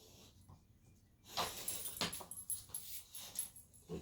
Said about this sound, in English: There comes the puppy